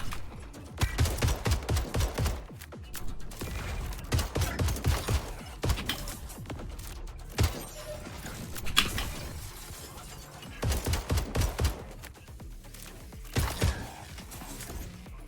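Bursts of rapid gunfire in a shooter video game, clusters of sharp cracks in quick succession separated by short lulls, with mechanical clicks between volleys.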